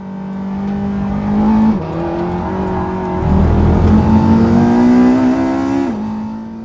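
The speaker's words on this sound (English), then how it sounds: "That's Walter Roll in front, driving a new 911 Turbo S, by the way, and driving it quite hard, as you'll see." A new Porsche 911 Turbo S driven hard around a circuit, its engine droning loud and close, pitch stepping up through hard acceleration with a surge and rising roar in the second half, no talk over it.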